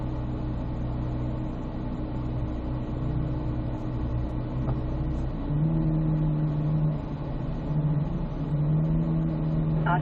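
A car accelerates steadily up to about 35 mph in preparation for an ABS braking exercise, its mid-pitched engine humming continuously and close, with the tone rising as the speed builds, and no talking over it.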